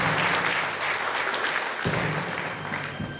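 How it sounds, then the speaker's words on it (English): Audience applause at a UFO conference quiz event in Holmfirth, steady dense clapping from a seated crowd that thins slightly toward the end. "Round of applause."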